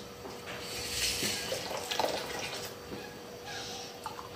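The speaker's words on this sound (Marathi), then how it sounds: "अजून काय करते मी, 2 ग्लास पाणी टाकते." Two glasses of water poured into a cooking pot of thickening jowar papad batter, a splashing, gurgling pour running for several seconds at close range with small drips near the end and no speech.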